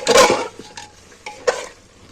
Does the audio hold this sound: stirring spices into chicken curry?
yes